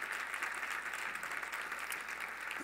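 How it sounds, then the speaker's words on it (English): An audience gives a round of applause for a speaker at a university event, an even, continuous wash of many people clapping, moderately distant and steady throughout with no speech over it. "give her a round of applause"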